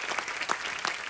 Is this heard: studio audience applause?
yes